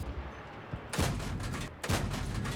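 Tank cannon fire in World of Tanks from a BZ-79 tech tree vehicle, two loud booming shots about a second apart, each with a rumbling tail, heard alone with no voices.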